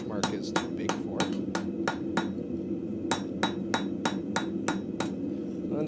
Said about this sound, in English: I'm just doing the random hammer marks